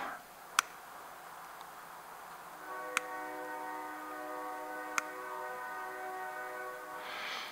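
A faraway train horn holds a steady, layered tone for several seconds, with a few sharp ticks in an otherwise quiet indoor setting and no speech.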